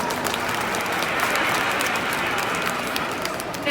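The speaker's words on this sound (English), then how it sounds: "Give him a round of applause." An indoor mall audience applauds at a sea lion show, with a steady wash of clapping from a sizable crowd at moderate distance, swelling slightly midway and fading as a voice starts at the end.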